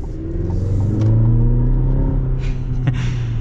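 A 2024 GMC Canyon pickup truck engine revs and pulls steadily, a loud continuous low rumble rising in tone as it accelerates, with no talking.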